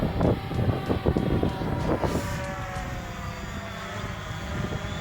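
A Xiro Xplorer quadcopter drone flies in cold weather, its motors giving a steady, continuous buzzing whine at close to mid range, with a few duller thumps near the start.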